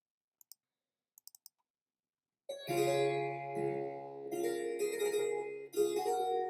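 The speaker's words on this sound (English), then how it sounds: "here is what a harpsichord sounds like" A few soft clicks, then a harpsichord plays bright plucked chords and a melody, close and clear, with no voices.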